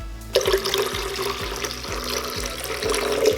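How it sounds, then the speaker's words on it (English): Lemon verbena tea pours into a midwife's labor brew of apricot juice, a steady close splashing stream of liquid running for a few seconds without talk. "Add the lemon verbena tea."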